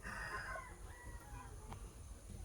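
A rooster crows once at a rural Philippine vegetable garden, a faint, distant call with a few clucks and soft background noise and no talking.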